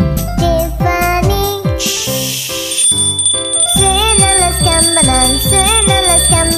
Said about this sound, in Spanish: Suenan las campanas, ding, dan, dan, ding, dan, dan.